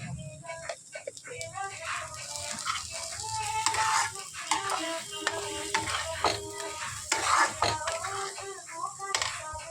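Spiced potato filling is stirred in a pan, a spoon scraping and clattering in quick irregular strokes over a soft sizzle, fairly faint.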